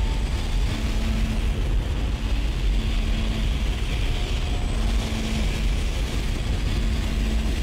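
Spaceship engines fire in the Dead Space video game as a loud, steady low rumble that holds for several seconds, with a faint repeating tonal hum layered over the roar.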